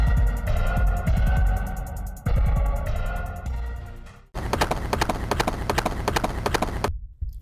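Horse hooves clop in a fast, rhythmic gallop on the horse stage of a ninja video game. Game music plays alongside, then a denser, driving run of hoofbeats follows before it cuts off abruptly.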